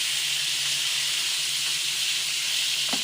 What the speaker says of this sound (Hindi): उसी ऑयल में हमने अपना चिकन डाला है फ्राई करने के लिए